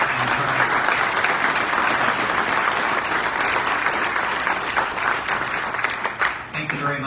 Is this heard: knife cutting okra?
no